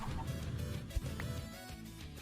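Chickens clucking in the Minecraft Sky Factory 3 modpack, a few soft low clucks over a steady background hum, faint and somewhat distant.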